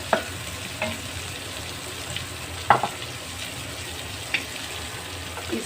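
Tomatoes with ginger-garlic paste fry in a pan, a steady close sizzle with a few sharp stirring clicks and scrapes at irregular intervals.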